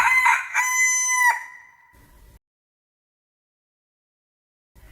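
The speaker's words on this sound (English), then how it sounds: "The cockerel too, which had been awakened by the noise, and had become lively, cried down from the beam" A rooster crows a loud, close cock-a-doodle-doo lasting about a second and a half, heard alone as a sound effect inside a spoken fairy tale of barnyard animals and robbers, then silence.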